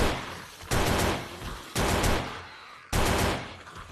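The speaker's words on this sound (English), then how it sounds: "So them four is actually burst fire. It's not full auto." Three loud, close bursts of gunfire from a burst-fire rifle in the survival game 7 Days to Die, each a dense rattling cluster of shots spaced about a second apart, with no talking.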